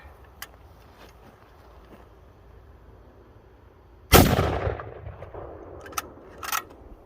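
A Mosin bullpup rifle in a CBRPS stock fires a single loud, close shot with a sharp crack and a decaying boom, followed by faint mechanical clicks as the bolt is handled.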